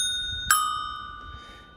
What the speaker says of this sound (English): It comes with a bell.